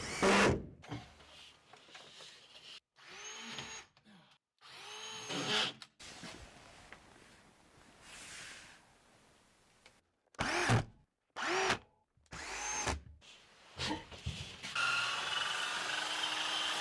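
A power drill drives screws into sheetrock in a basement food pantry, whirring in several short and long bursts separated by brief pauses, close and loud.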